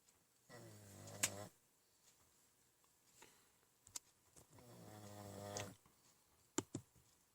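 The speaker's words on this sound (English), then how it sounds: "if you hear any snoring going on," Roscoe the dog snores softly in a quiet room. Two drawn-out, rumbling snores come a few seconds apart, with faint ticks and clicks between them.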